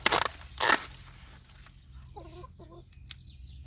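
Farm chickens clucking faintly in two short bursts midway, alongside a couple of louder rustling crunches at the start, in a mixed garden where corn is being harvested.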